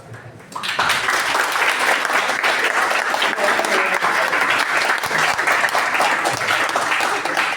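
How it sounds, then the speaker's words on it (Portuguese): An audience at a morning lecture bursts into sustained, dense applause after a brief quiet start, steady and loud for several seconds with no voices over it. "vamos dar uma calorosa salva de palmas em agradecimento pela presença do pessoal"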